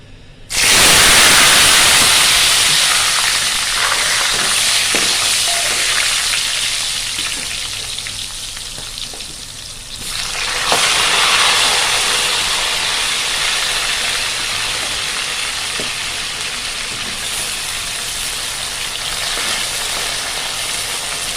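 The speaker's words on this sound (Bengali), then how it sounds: "এখন আলুগুলো আমি হালকা তেলে ভেজে নিব।" Potato pieces frying in a little oil for beef kacchi biryani give a loud, continuous close sizzle and hiss that eases slightly midway, then swells again and carries on steadily with no talk.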